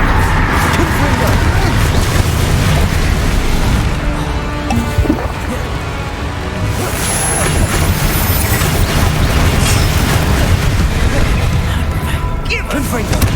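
Repeated Confringo fire-blast spells go off in Hogwarts Legacy, a dense, loud barrage of booms and crashing impacts under a game soundtrack with tonal music and effects.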